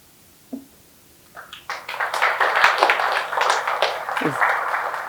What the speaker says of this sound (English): It's very sad that I have to prompt you to clap.